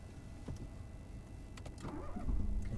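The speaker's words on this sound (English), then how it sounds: "Still don't know how to start the car." A car engine starting during a driving lesson, a short cranking burst and catch rising near the end into a steady low idle, heard close inside the cabin with no talk.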